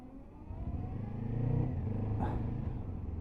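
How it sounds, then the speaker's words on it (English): A Kawasaki Ninja 7 Hybrid motorcycle pulls away, its engine kicking in with a low rumbling rise that swells and then eases, heard close over road noise. "Bike sets off, engine kicks in."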